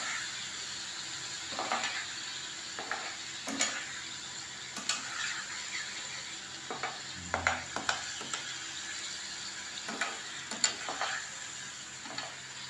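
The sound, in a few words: stirring sour yogurt into fish curry in pan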